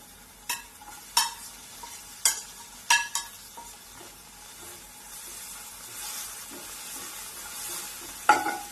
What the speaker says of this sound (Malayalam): ഇതൊരു പാതി ഒന്ന് പൊരിഞ്ഞ് വരിക, അതായത് ഒന്ന് വഴറ്റിയെടുക്കുക, അത്രയും മതിയാവും.